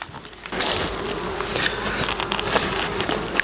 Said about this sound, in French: Donc la hausse là est remplie d'abeilles.